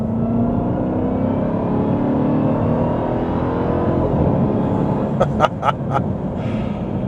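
An American SUV's engine pulls hard on a straightaway, a loud, steady rising drone heard from inside the cabin, with a few sharp clicks near the end.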